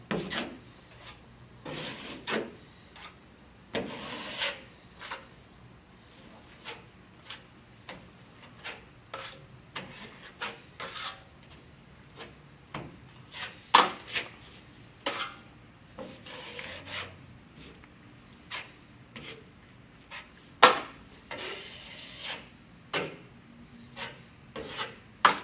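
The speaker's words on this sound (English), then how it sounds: "I'm going to force the compound through the mesh tape and into the crack" A drywall knife scrapes and rubs joint compound through mesh tape into a wall crack, a steady series of short rasping strokes with occasional sharper scrapes, close and moderately loud.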